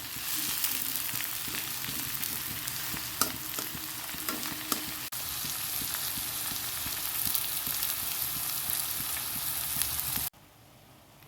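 Sliced potatoes fry in oil in a pan, giving a loud, steady sizzle with occasional sharp clicks of stirring against the pan, until the sizzle cuts off abruptly near the end.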